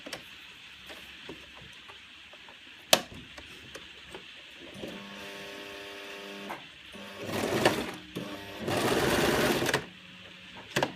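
A sewing machine stitches a sensory maze cuff, starting with a sharp click, then a steady rhythmic hum, and ending in two louder, faster runs of stitching.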